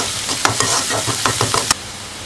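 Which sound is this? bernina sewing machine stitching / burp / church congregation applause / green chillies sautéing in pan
green chillies sautéing in pan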